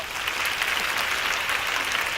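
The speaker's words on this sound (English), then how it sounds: "Give yourselves a round of applause." Steady applause from a classroom group fills the whole stretch, a dense even patter of many hands clapping at moderate volume with no talking over it.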